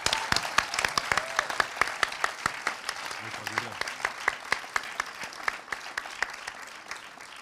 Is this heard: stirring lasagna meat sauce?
no